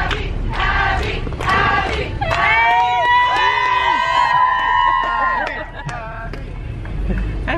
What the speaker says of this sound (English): Look, Ab, they're cheering for you.